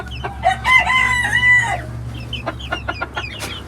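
Hens cluck in a coop, one drawing out a long, loud crow-like call, followed by a run of short, clipped clucks from birds close by.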